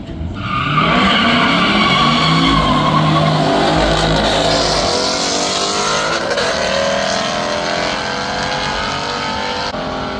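Drag race at the Hot Rod Power Tour with a truck among the racers: loud roaring engines and screeching tire squeal as vehicles launch, the rising engine note sustained and close for several seconds.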